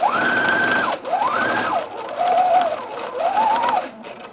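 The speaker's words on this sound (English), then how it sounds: "So now I'm going to stitch along this fold" A sewing machine stitches along the fold of a pink wrap dress neckline in four sustained whirring bursts with short pauses between, close and clear, no voices.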